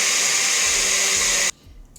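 A kitchen blender whirs loudly, blending cauliflower with water into a smooth puree, a steady high-pitched motor roar that cuts off abruptly halfway through, leaving quiet room tone.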